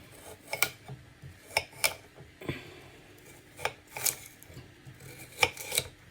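Garlic and herbs chopped with a knife on a board, a series of crisp, sharp taps in irregular pairs and singles, close and fairly quiet, with soft rubbing between strokes.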